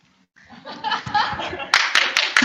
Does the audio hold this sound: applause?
yes